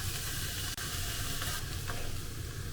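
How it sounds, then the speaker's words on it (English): Tuna and daikon leaves stir-frying in a frying pan give a steady, close sizzle with stirring scrapes, continuous and fairly loud with no voices. "add the tuna into a frying pan and stir fry them until they become a little bit dry"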